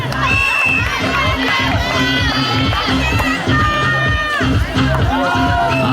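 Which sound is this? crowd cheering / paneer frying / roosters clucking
crowd cheering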